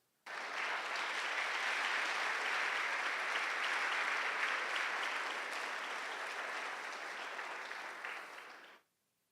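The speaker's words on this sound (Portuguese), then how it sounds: "Dá um aplauso ao Senhor." A church congregation applauds the Lord in a dense, steady roar of clapping that starts abruptly, holds for about eight seconds, then fades out quickly.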